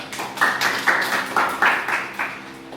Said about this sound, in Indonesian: tepuk tangan buat Suja